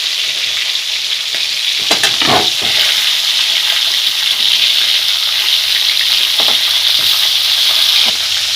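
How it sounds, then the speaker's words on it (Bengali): A loud, constant sizzle comes from catla fish pieces browning in hot oil in a pan. Brief clatters of a spatula sound early on and again near the end, with no talking over it. "এরকম লাল লাল করে ভেজে নেবে"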